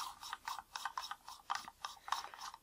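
A Nikon Nikkor 105mm f/2.5 lens being unscrewed by hand, a close, faint series of rhythmic rasping, grinding turns with short pauses between strokes, like metal threads rubbing.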